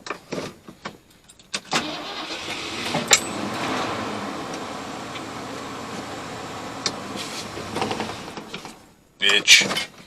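A 1980 Ford F100 pickup engine cranks and catches, then settles into a loud, steady idle with a few mechanical clunks before cutting off and restarting near the end.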